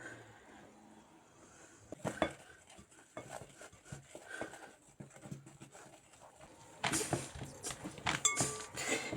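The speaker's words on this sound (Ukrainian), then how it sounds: "Тепер додаємо трошку борошну і вимішуємо тісто" Dough being worked with flour in a bowl for walnut-shaped cookies filled with condensed milk: soft scraping and tapping strokes at moderate level, growing busier and louder near the end, with no talking.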